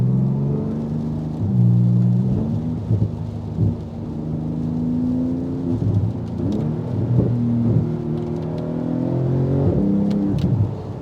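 A Porsche GT2 RS, a 700 hp car on Gt2RS tires, accelerates on a wet road in the rain. A loud, steady engine drone rises and shifts through several gear changes, with no talking over it.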